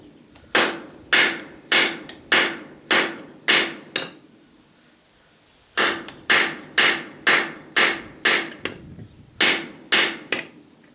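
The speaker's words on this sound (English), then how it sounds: "Some ugly hammer strikes there." Sharp metallic strikes of a small tack hammer forging an arrowhead on a stake anvil, close and loud, in two steady runs of about seven blows each with a short pause between, no talk.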